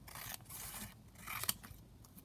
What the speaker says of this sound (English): I'll just cut another strip whilst I'm here.